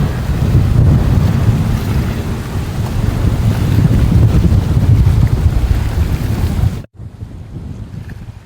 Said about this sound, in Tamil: காற்றுண்ட அலைன்ற வேகம் எப்படி இருக்குது, காற்றுண்ட சத்தம் எப்படி இருக்குன்னு காட்டுறதுக்காக தான் இந்த இடத்துல இப்போ ஒன் பண்ணியிருக்கிறேன்